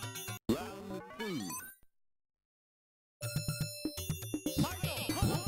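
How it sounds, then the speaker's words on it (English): Chiming, bell-like tones in the opening of the Street Fighter arcade game music. Bright jingling melody with busy layered notes plays, stops for about a second and a half of silence, then resumes loud with rhythmic bell strikes. "Those bells chiming."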